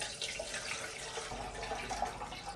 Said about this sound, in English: Fill the water tank with 2 liters of bottled water.